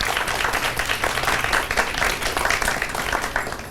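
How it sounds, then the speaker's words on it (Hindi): A studio audience on a Hindi show breaks into loud, sustained applause, dense clapping filling the whole stretch evenly without pause. "एक बार जोरदार तालियां हो जाए"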